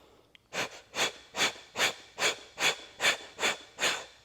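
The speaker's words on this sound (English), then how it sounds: "Out through the pursed lips, short, forceful exhales." Nine short, forceful breaths blown out through pursed lips, evenly spaced at a steady rhythm, close and alone.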